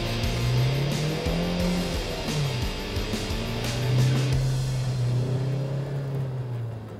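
A Jeep Compass SUV driving at high speed, a steady engine drone with pitch rising and falling through gear changes, loud and close throughout with no talk.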